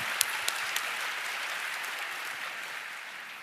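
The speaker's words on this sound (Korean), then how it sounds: "주님께 박수로 영광 올리겠습니다" A church congregation applauds in worship at a pastors' seminary, a broad wash of clapping heard from a distance, opening with a few crisp nearby claps before settling into a steady, even roar.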